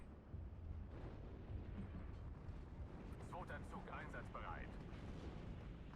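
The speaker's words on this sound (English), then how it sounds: "The artillery fire is finally coming in" Artillery fire in the WWII strategy game Steel Division 2 rumbles as a continuous low barrage of distant booms, thick and heavy, with faint higher crackles and no clear voices.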